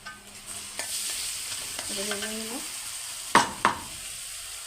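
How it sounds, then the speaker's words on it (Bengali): Chopped onion and ginger-garlic paste sizzle in hot oil in a pan for a Bengali hilsa fish and green banana curry, a steady frying hiss with a spatula scraping and stirring, ending in two sharp metallic clanks close by. "তেলের ভিতরে দেবো সামান্য আদা রসুন বাটা"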